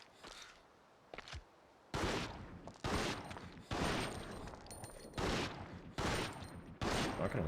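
Gunfire from shooting enemies in a Resident Evil game comes as a series of loud, separate bursts roughly every second, with short gaps between them.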